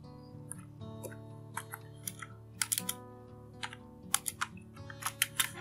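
Computer keyboard keys pressed while entering shortcuts in CorelDRAW, a series of sharp clicks, some single and some in quick clusters, over a steady low hum.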